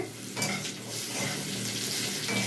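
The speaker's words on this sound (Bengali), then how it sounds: "হলুদ দিয়ে দিচ্ছি আলুটা পুরো ভাজা ভাজা হয়ে গেছে লাল লাল করে" Potatoes fry with turmeric in a pan, giving a steady, close sizzle broken by scraping stirs, with no voices.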